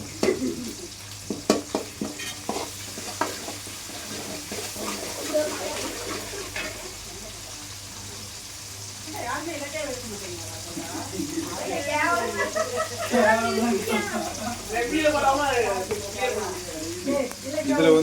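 A spoon stirs and scrapes ground masala of coconut, shallots, tomato, turmeric, chilli powder, pepper and cumin frying in a fish curry pan, with soft irregular sizzling and scraping under a murmuring voice.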